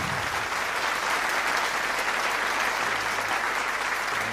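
A large rally crowd at a world-peace event gives Prime Minister Brigi Rafini a round of applause, a steady, dense roar of clapping that holds at an even level for the full stretch.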